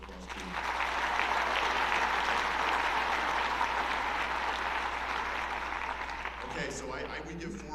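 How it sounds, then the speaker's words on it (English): An audience at a school awards and scholarship assembly applauding, a sustained wash of clapping that swells quickly and holds, then thins out toward the end as a voice begins over it. "So give those kids a round of applause too."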